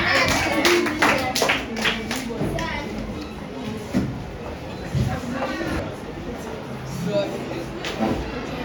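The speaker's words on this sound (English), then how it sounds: "Okay, clap for him." An audience claps hands together, a brisk patter of many claps strongest at the start, while a person speaks over it and the room stays noisy.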